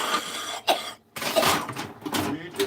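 A person coughs in a farm setting with a few broken bursts, a short pause, then a longer run of coughing close by.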